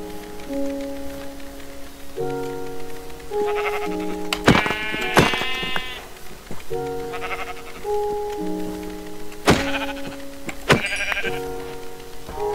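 Sheep in Minecraft bleat repeatedly over a layered game music track with plucked notes, the blocky animals' calls rising loud and close every few seconds.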